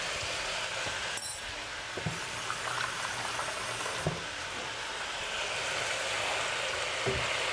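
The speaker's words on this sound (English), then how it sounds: "Now with this potato curry, or the egg curry, I'm actually going to add a little bit of water." Water poured into a pan of cooking potato curry, with a steady hiss and sizzle of boiling and bubbling throughout, plus a few faint knocks.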